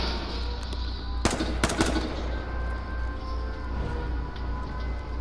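Gunfire in the battle-royale shooter H1Z1 on PS4: a short cluster of three or four sharp shots around the middle, loud against a steady noisy game background with no talk.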